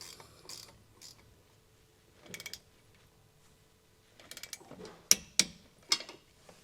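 Brake slide bolts on a 2020 Keystone trailer's DeeMaxx disc brake kit are tightened with a torque wrench: quiet ratcheting and scattered mechanical clicks, ending in several sharp, distinct clicks.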